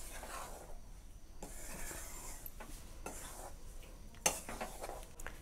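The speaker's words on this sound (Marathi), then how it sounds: "तर आता साखर आणि विलायची छान असे मी मिक्स करून घेते" A spoon stirs warm semolina with powdered sugar and cardamom for rava ladoo made in ghee, giving soft scraping strokes against a pan with a single sharp clink near the end.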